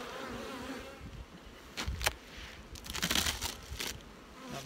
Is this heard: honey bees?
yes